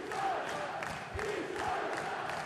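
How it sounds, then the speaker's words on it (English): Football crowd at Bloomfield Road during Blackpool against Oxford United: a continuous roar of massed voices with swelling chants and shouts, loud and dense throughout. "You can hear the crowd and the noise being created at Bloomfield Road"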